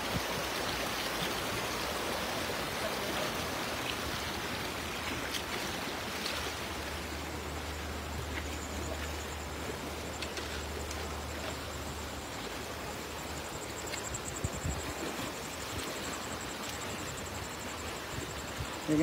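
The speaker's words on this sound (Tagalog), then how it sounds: "Malakas yung agos" Strong river current rushing steadily where people are fishing, a dense continuous broadband wash that holds close and loud throughout with no break.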